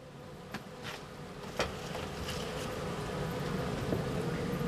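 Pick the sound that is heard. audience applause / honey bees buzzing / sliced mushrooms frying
honey bees buzzing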